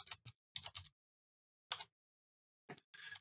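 Short bursts of computer keyboard typing in quick clusters of keystrokes, separated by silent pauses, close and fairly quiet.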